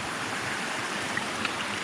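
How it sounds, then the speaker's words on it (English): A small waterfall in a pine-forest stream on the Appalachian Trail, giving a constant broad rush of falling water with no voices. "Little waterfall up there."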